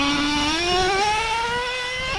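A small RC car at a construction site accelerates hard into second gear, its high motor whine climbing steadily in pitch as one continuous, loud, close sound with no voices.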